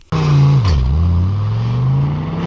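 An Audi S6 C4's five-cylinder engine, manual-swapped, revs hard, dips briefly, then climbs again in a loud, close, throaty burst lasting a couple of seconds.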